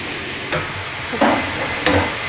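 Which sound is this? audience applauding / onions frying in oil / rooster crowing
onions frying in oil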